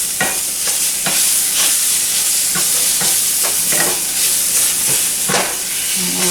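Pork chops fry in butter in a pan with a steady broadband sizzle and hiss, broken by repeated soft clicks and scrapes of stirring, close and continuous for the whole stretch.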